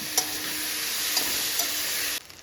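Ginger garlic paste sautéing in a pan for pepper chicken, a steady close sizzle with a few light stirring taps, cutting off abruptly near the end.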